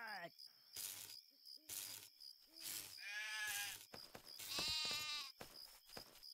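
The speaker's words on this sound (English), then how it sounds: "I heard a sheep." Sheep bleat in the Halloween edition of the video game Craft The World, with several distinct wavering calls in short bursts, clear and close, among other in-game effects and no speech.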